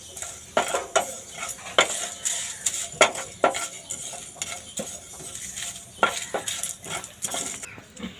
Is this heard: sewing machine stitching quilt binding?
no